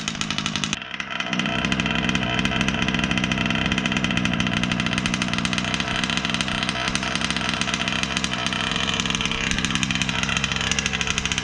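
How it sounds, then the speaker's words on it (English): A nitro-fuelled Losi 5B RC car engine idles at a raised idle, a steady, buzzy, close-up drone that holds constant, with no talking. "I'd rather it run with a little higher idle"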